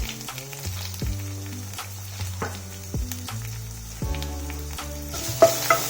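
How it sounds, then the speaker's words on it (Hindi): Chopped carrot and capsicum being stirred and mixed in a hot pan, with steady sizzling and repeated scraping strokes of a spoon at close range, no voices. "इन सबको हम अच्छी तरह से मिक्स कर लेंगे।"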